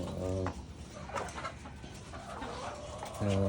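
Chickens in a cage-system poultry farm give faint clucks and bird calls, with a voice talking briefly at the start and end.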